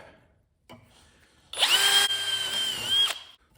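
A short burst of a power drill whirring at high pitch for about a second and a half, drilling into metal at the end of a crack on a 1970 GMC 2500 truck, close by, after a brief quiet pause.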